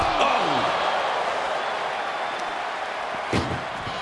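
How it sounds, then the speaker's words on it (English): An ambulance door slammed shut during a wrestling ambulance match: a single sharp, hollow bang near the end, over a steady crowd roar and excited commentary. "Trying to at least slam one door shut."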